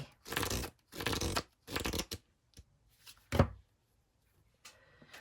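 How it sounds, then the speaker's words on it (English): Three quick riffle shuffles of a tarot card deck, crisp and close, followed by a few softer taps and rustles as the cards are squared. "I don't get real crazy with shuffling these"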